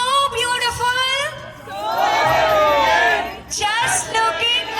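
Guests at a Hindu wedding pheras ceremony cheer and whoop in a lively, close burst. Loud crowd chatter and shouts rise and fall alongside them.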